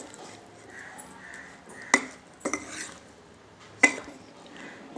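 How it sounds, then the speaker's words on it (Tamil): Small nethili fish tossed with corn flour, rice flour and lemon juice in a bowl give soft squishing and stirring, broken by a few sharp clinks of utensil against the bowl, fairly quiet and close. "எல்லாத்தையும் நல்லா mix பண்ணிக்கோங்க."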